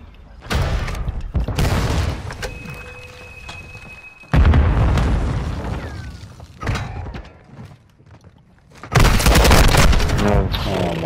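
Bomb explosions in Call of Duty Modern Warfare 2 Search and Destroy ranked play: several heavy, loud booms with shattering debris and rumbling decay, separated by quieter gaps of game noise.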